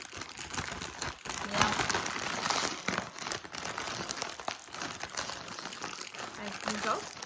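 Crinkly plastic packaging of a Christmas popcorn snack being wrestled with as someone struggles to open it: a steady run of crackling and rustling under people talking throughout.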